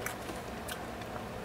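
Close, crisp crunching and biting of an Orion Gosomi sesame cracker, a few quick bites over a soft steady background.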